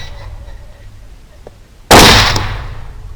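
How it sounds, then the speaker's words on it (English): A single loud 6.5 Grendel rifle shot fired at a hog, a sharp sudden blast that decays over about half a second after a quiet lead-in. "The second shot there simply because the hog was still upright."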